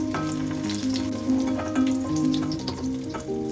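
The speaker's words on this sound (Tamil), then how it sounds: "ஒரு பாத்திரத்தில் எண்ணெய் ஊற்றி எண்ணெய் சூடானதும் கட் பண்ணி வச்சுருக்க பன்னீர் அதில் சேர்த்து பொன்னிறமாக வறுத்து எடுத்துக்கலாம்" Paneer pieces fry in hot oil in a pan until golden, giving a steady, close sizzle dotted with small crackles and pops throughout.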